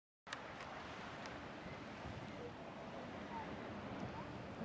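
Steady wash of sea waves and gusting sea wind at Suma beach, a continuous broad rush with faint higher hiss, quiet and without clear breaks.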